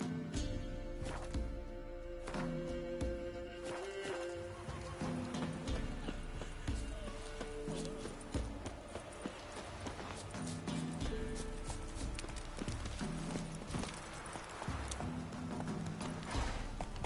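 Roach the horse gallops in The Witcher 3, hooves clip-clopping in a fast continuous rhythm under a dense game soundscape, with faint mechanical noises and a hint of a neigh.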